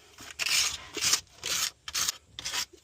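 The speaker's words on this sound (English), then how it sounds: "So I got that sanded and smoothed out pretty good." Hand sanding over a rust repair on the body of a 2002 Acura RSX Type-S, where leaking tail light gaskets caused the damage: five rhythmic, raspy rubbing strokes, close and fairly loud, separated by short pauses.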